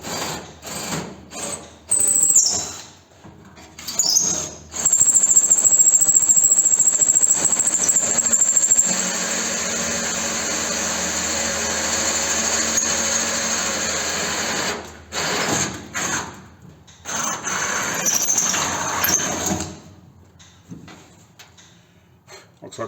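A power drill boring the first hole through a bow for a Studebaker, a loud whirring whine sustained for several seconds then trailing off, in short starts and stops with a voice speaking briefly between.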